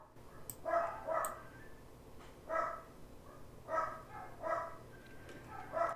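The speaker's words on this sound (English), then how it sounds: "the dogs are barking at something" Dogs bark several times at a distance, short grouped barks repeating every second or so against a quiet, faintly noisy background.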